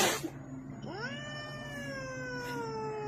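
A domestic cat lets out one long, drawn-out meow that rises and then slowly falls, close and clear over a faint background hum, with a brief noisy burst just before it.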